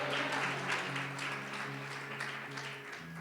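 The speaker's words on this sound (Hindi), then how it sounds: "बजाएं प्रभु के लिए ताली।" A church congregation claps continuously in a dense, steady wash of applause, with sustained musical tones held underneath.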